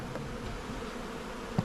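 Honeybees at a beehive in Alaska give off a steady, close, even buzzing hum throughout, with no voices.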